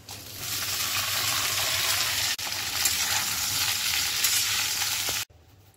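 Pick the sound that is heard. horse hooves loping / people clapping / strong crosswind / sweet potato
sweet potato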